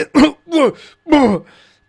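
A voice imitates a creature-bitten character's sudden coughing in a tabletop role-playing game, three quick harsh throat-clearing coughs, close and loud, each fading into a short rasp.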